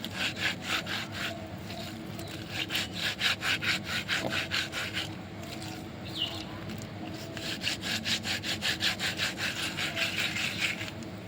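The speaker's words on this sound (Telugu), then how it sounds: "వీటిని అయితే కొంచెం నాపరాయికైనా వేసుకొని కొంచెం రుద్దినట్లు చేయాలండి ఎందుకంటే కొంచెం పొలుసు అనేది ఉంటుంది అది పోవడానికి" Small fish rubbed back and forth on a flat stone slab to scrape off their scales, a steady rasping scrub of rapid strokes that carries on continuously and fairly close up, with no talking.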